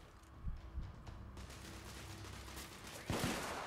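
Gunfire in the video game The Order: 1886 during a shootout with shotgun-wielding enemies, a few muffled shots early on, then a louder blast near the end over a steady background din.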